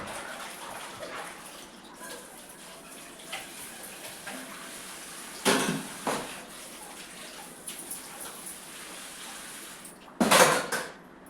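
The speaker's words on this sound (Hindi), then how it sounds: "यहाँ पर मैं बर्तन धुल रही हूँ" Dishes being washed by hand in the late afternoon, with a few sharp clinks of pots and utensils standing out over a steady wash of running water and soft rattling.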